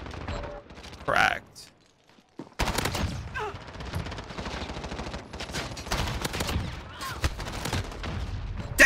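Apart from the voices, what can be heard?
gunfire in the video game Modern Warfare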